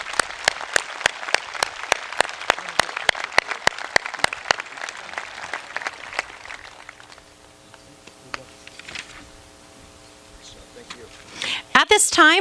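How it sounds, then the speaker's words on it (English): Graduates and guests at Celina High School's 2021 graduation ceremony applaud their classmates, with loud, sharp clapping that gradually fades into quiet room tone and a brief burst of noise at the very end. "Please give your fellow classmates a round of applause."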